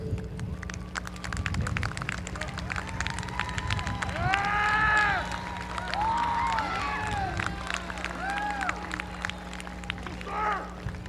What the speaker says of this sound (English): huge round of applause for our teachers